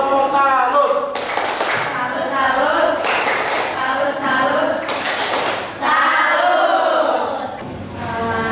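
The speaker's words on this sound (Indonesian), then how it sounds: "Tepuk tangan untuk kelompok yang pertama." Audience at a university student group presentation in Indonesia breaks into loud, close clapping in several bursts, with shouted cheers and voices mixed throughout.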